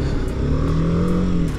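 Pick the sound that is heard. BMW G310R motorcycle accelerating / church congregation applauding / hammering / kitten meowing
BMW G310R motorcycle accelerating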